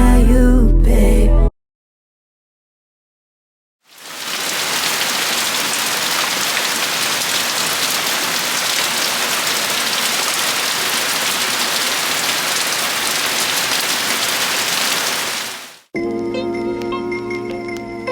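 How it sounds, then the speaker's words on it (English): Heavy rain pours down in a loud, dense, continuous hiss lasting over ten seconds, bracketed by a short burst of music before and other sound after a silent gap. "It is raining like really bad."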